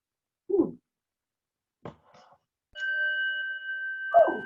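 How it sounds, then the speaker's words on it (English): A bell rings at a book launch event to signal that time is nearly up, with a single sustained ringing tone standing out after a few scattered knocks and faint sounds in an otherwise quiet room. "There's the bell."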